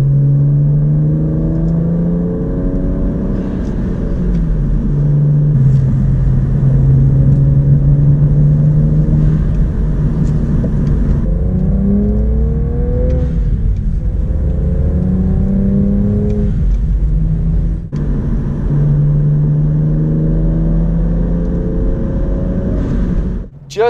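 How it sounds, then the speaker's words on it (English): A BMW 3 Series driving on the road, its engine note climbing repeatedly through the gears in a loud, continuous droning whir with rising pitch sweeps, heard from inside the car with a faint voice now and then. "These BMWs, particularly in the 3 Series format, are really, really great cars to drive."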